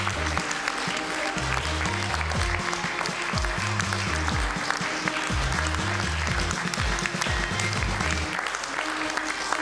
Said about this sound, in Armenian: ծափերով դիմավորենք Լալա Սարգսյան